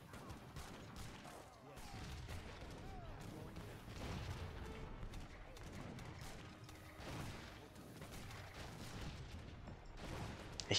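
Cannon fire and battle noise from Age of Empires III: Definitive Edition, a dense, continuous barrage of booms and crashes with repeated low thuds over a steady loud bed of combat sound.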